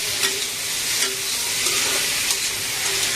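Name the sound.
stirring fried prawns with potato and tomato in a pan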